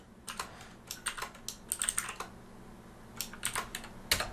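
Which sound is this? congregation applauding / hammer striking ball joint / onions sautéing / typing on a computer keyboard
typing on a computer keyboard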